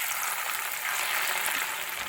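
Pieces of ripe, sweet jackfruit fry in hot oil with a dense, even crackling sizzle that stays close and constant throughout.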